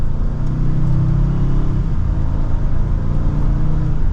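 A 2024 Ford Expedition Max Limited accelerates gently in manual mode, with a steady low engine hum and road rumble heard from inside the cabin, smooth and even throughout.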